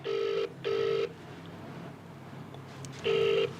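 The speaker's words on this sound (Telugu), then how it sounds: "ఒక ఆయన ఫోన్ లేపుతలేడు." A telephone rings unanswered in short bursts: two rings close together, a pause, then a third, steady and clear over a faint background hiss.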